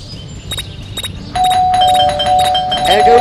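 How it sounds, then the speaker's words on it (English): A doorbell in the video game Scary Teacher 3D rings repeatedly in bright, chiming tones, first sparse and then rapid and insistent, loud over a low game background. "There goes that stupid bell again."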